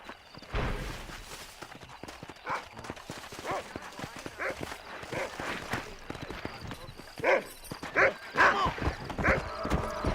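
Horse hooves clopping closer and a whinny in Red Dead Redemption on Xbox Series, mixed with game ambience and bursts of louder effects, with someone speaking over it.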